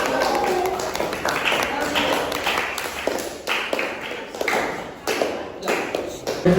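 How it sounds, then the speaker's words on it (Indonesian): A classroom of students claps for group 1 after their presentation, dense and broadband at a fairly loud level throughout, with some voices mixed in underneath. "Tepuk tangan untuk nomor 1"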